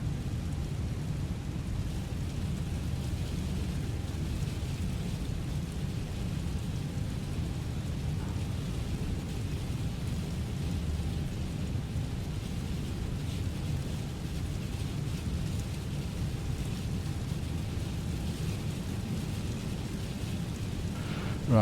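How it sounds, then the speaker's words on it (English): Heavy rain drums steadily during a stormy flight on a Lufthansa Airbus A320neo out of Birmingham in Storm Chandra, forming a dense continuous roar with no breaks and faint rumbling underneath. "Here's the rain."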